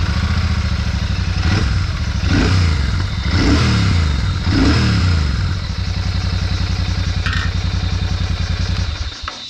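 A Royal Enfield Shotgun 650 twin-cylinder motorcycle with a wide exhaust barrel fires up close by, giving several throttle blips and revs before settling into a loud, steady thumping idle.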